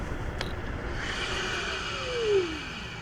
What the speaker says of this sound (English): Going to do a brake test here